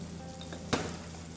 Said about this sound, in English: Might do a little more olive oil. You want to see everything frying.